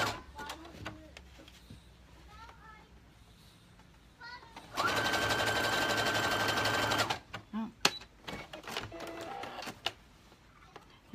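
A sewing machine runs steadily for about two seconds as it stitches a folded seam, a loud continuous mechanical whir, with quieter talk and small handling sounds before and after.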